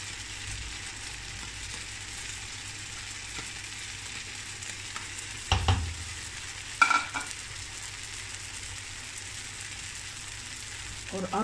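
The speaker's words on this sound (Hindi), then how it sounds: "और अब आप इसके अंदर अपनी वेजिटेबल्स मिक्स करें।" Vegetables frying and being stirred in a pan for vegetable spaghetti, with a steady close sizzle throughout and a few louder scraping stirs near the middle.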